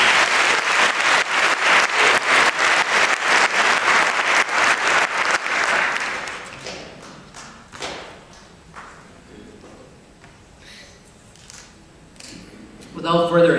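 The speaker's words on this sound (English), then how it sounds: "Please join me in giving them a round of applause." Applause from a conference audience at an education keynote event, loud dense clapping for about six seconds, then fading into scattered claps, thumps and room murmur, with a brief burst of sound near the end.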